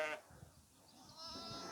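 Lambs and sheep bleat inside a farm barn, a faint wavering bleat at the start followed by another longer, thin call, soft and somewhat distant.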